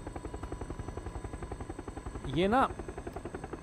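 Helicopter in PUBG: a close, steady rapid rotor chop pulsing evenly throughout, with a brief burst of a voice speaking over it midway.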